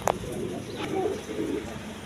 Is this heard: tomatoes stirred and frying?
no